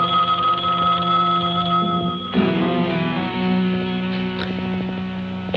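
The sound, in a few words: telephone ringing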